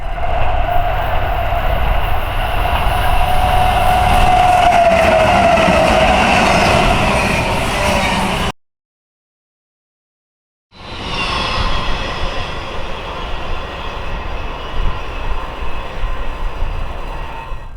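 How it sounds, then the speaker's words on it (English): A Norfolk Southern intermodal freight train led by a Tier 4 GEVO locomotive rolls past close by: a loud, steady rumble of wheels and cars with a faint squeal, cut by a brief silence before the rumble resumes. "this Norfolk Southern Intermodal with a Tier 4 GEVO leading and regular 1 trailing"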